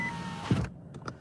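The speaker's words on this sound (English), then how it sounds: "roll my windows up" Car power windows whir upward in a short, close motor burst about half a second long inside a parked car, followed by a couple of faint clicks.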